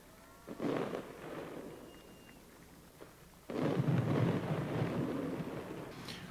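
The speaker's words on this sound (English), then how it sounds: "Fireworks in the background." Fireworks from Fourth of July celebrations boom in the background, a low rumbling burst near the start and a longer, louder rolling barrage from midway on, with a faint crackle at the end.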